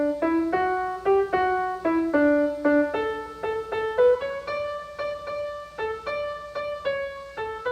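The Easter hymn That Easter Day with Joy Was Bright is played on a church keyboard, piano or organ, as a clear single melodic line of evenly paced, detached notes. It sounds close and moderately loud, with no voices.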